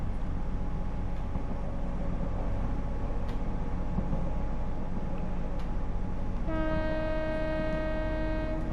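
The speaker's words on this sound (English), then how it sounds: "Just do the horn, because why not?" A train horn sounds in Train Sim World 6 on the Thames Valley branch lines. Steady rail rumble runs throughout, then a loud, sustained horn blast enters near the end and holds to the close.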